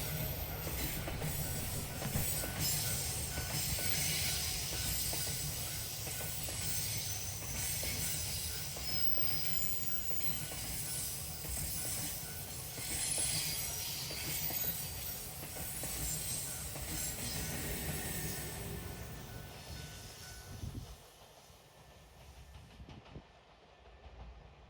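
A freight train hauled by a locomotive works up a curved gradient, its rumbling wagons and clattering wheels rolling steadily and loudly close by before the noise drops away near the end.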